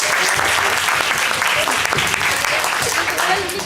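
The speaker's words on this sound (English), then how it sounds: "Give me a round of applause." Conference audience at an opening ceremony applauds, sustained dense clapping throughout that fades slightly at the end, with some voices mixed in.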